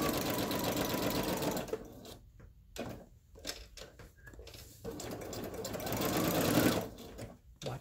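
A sewing machine stitches through paper in close, loud runs of rapid mechanical chatter, broken by a few seconds of stop-and-start pauses before it runs steadily again.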